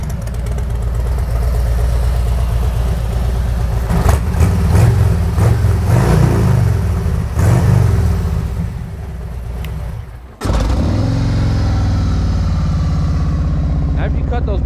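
A 2022 Harley-Davidson Road Glide RCX with a 4.5-inch exhaust runs loud and close, its deep engine note rising and falling through several revs before cutting out abruptly, then restarting at a steady rumble.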